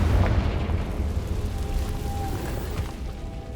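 Blasting spell explosion from the Confringo spell in Hogwarts Legacy, a dense, loud rumbling boom with a crackling low-end roar that holds steady throughout, with a faint tone drifting through the middle.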